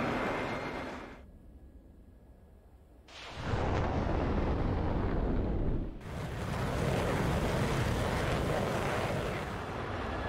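A surface-to-air missile launches over North Vietnam near Thud Ridge with a loud, broadband rocket roar. The roar eases into a quieter stretch, then surges back and holds at full strength to the end, with no voices.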